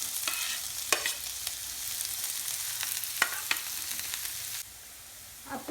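Chopped onion and carrot with garlic stir-fry on a high flame, giving a steady close sizzle with scraping stirs and occasional sharp clinks, before the sizzle drops away near the end.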